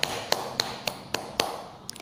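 Sharp hand claps or finger taps land in a steady rhythmic beat, about seven evenly spaced strikes close by, followed by a quick softer flurry at the end, demonstrating strong beats for a primary-school rhythm lesson.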